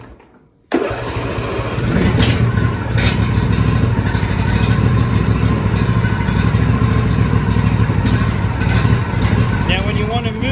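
A John Deere D160 riding lawn tractor is started after a short silence and its engine catches at once, then keeps running with a loud, steady idle drone close by. Someone talks over the engine.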